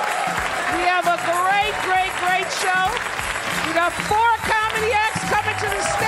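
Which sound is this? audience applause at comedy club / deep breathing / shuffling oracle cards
audience applause at comedy club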